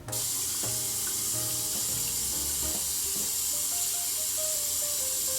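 A bathroom tap runs a steady stream of cold water into a sink during face washing, a constant close hiss with faint clinks and splashes over it and no talking.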